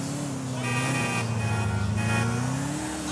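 A stretch limousine drives in GTA: The Ballad of Gay Tony, its steady engine hum loud and close, with a faint horn-like tone riding over it for about three seconds.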